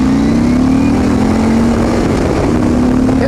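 A 2015 Harley-Davidson Street Glide pulls hard in first gear, its engine droning loud and close with a steadily climbing pitch.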